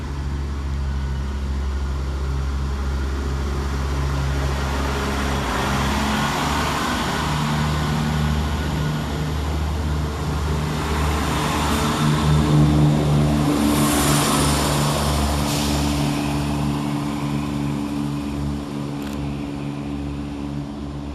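A ScotRail passenger train runs at North Queensferry station on the Edinburgh Waverley to Glenrothes service, giving a steady low diesel engine drone with throbbing tones that swells slightly midway, close and continuous with no talk.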